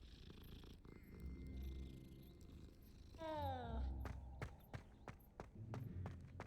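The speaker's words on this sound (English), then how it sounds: "Oh, look, another cat. I'm gonna pet all the cats." A soft, steady cat purr from a cat being petted in Hogwarts Legacy, heard alongside footsteps and game ambience with a low rumble underneath.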